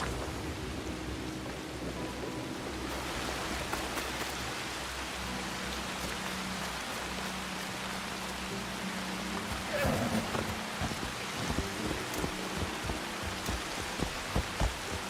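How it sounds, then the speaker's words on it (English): Steady rain falls in the video game Assassin's Creed Shadows, a constant hiss with scattered drop patters that grow more noticeable toward the end, at a moderate level with no voices. "All this rain"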